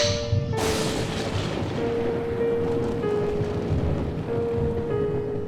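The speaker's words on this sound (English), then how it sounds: "Do you hear that thunder?" Thunder rumbles through a rainstorm in Deadly Premonition 2, a heavy boom near the start rolling out over steady loud rain that continues throughout.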